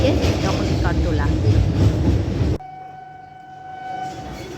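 Riding inside a train crossing the Hooghly bridge, a loud dense rumble and rattle fills the first two and a half seconds and then cuts off to a quieter hum with a steady tone, while a person talks.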